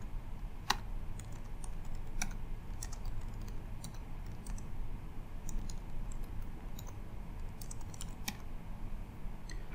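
Typing on a computer keyboard while entering a command in a command prompt: a steady stream of soft, close key clicks with a few sharper taps, over a low background hum and no talk.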